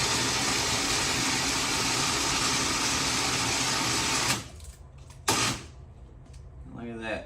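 An Open Road 4,500-pound 4WD winch runs with a steady, loud mechanical whir for several seconds, then stops abruptly, followed by a short knock and a brief burst of motor before a voice starts speaking.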